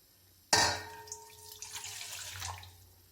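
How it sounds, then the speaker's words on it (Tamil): Water poured from a glass into a pan of jaggery and brown sugar for syrup: a sudden splash followed by a short, fading trickle and gurgle, close and fairly quiet. "2 கிளாஸ் தண்ணி ஆட் பண்ணிகிட்ருக்கேன்."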